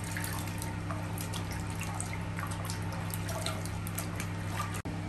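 Water splashes and trickles gently as a baby is bathed, soft, close dripping and sloshing over a faint steady hum, ending with a single sharp knock.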